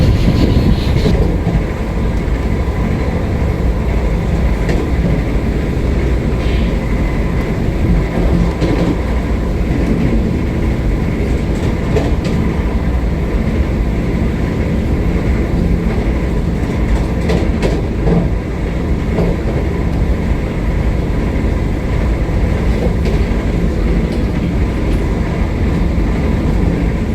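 A Vande Bharat train runs on its tracks during a rainy journey, a loud continuous rumble and roar heard from on board with faint rhythmic clicking of the wheels, steady throughout.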